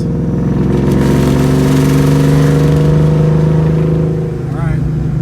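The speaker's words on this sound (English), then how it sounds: "We'll give it some partial throttle after we pass this." A 2004 Ford Mustang Cobra with throttle hesitation, in second gear, drones steadily at partial throttle from inside the cabin, a loud, even engine tone with a slight dip near the end and a voice speaking over it.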